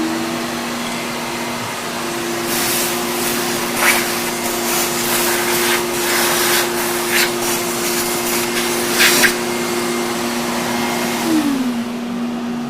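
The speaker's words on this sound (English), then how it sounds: "let's get the vacuum" A shop vacuum runs steadily to suck debris out of a cutter grinder setup, with a loud constant whine and hum, brief clatters of debris being drawn in, then the motor winding down at the end.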